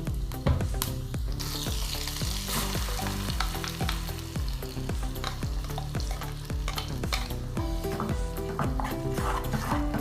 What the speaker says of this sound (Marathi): कढईमध्ये आता आपण कढीपत्ता, जिरा आणि 1-2 लसूण टाकून देऊ.